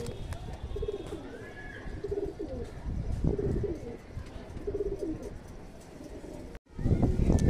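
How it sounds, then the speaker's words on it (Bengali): Pigeons coo in repeated low, throaty phrases close by, with light chirps and rustling, ending in a louder burst of noise. "প্রচণ্ড ছটপটে পায়রা।"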